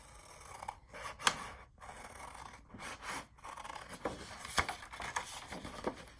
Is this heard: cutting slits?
yes